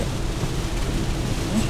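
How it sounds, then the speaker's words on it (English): Heavy rain pours steadily during a downpour in Riverview near Tampa, a dense, even wash of noise that fills the whole short stretch with no voices. "It's just pouring everywhere we go today."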